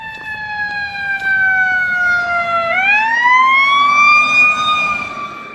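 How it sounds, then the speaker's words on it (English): An emergency vehicle siren wails loudly and steadily, its pitch dipping then rising as it passes close by, with no talking. "Ooh, a siren."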